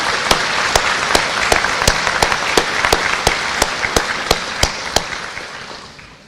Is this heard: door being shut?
no